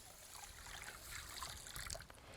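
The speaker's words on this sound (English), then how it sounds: "We're going to add our water, which I've already measured off" Measured water poured into a pot of rice at a cottage kitchen, a steady trickling and splashing stream that runs close and fairly quiet for a couple of seconds with no talk over it.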